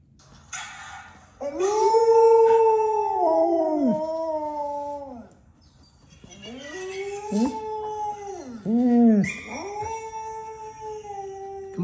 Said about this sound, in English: They want to see you howl.